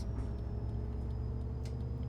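An Alexander ALX400 double-decker bus in the OMSI 2 simulator idles with a steady low engine rumble and a faint high whine, continuous and close, with no talk.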